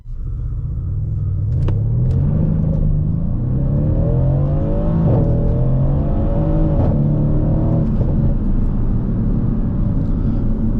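A 2015 Mercedes C63 AMG Estate with its 476 hp 4.0-litre biturbo V8 pulls hard through a tunnel on wet roads, a loud, steady rumble rising in pitch through several gear changes and echoing off the walls.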